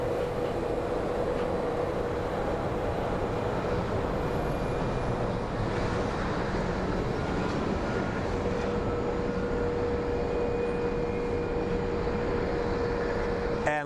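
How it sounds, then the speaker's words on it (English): A CRJ 100 regional jet lands at Phoenix Sky Harbor airport, heard as a steady, fairly distant engine roar with a low hum that holds evenly throughout. "And looks like we have another small plane coming in. I wonder what this is. So this is the CRJ 100."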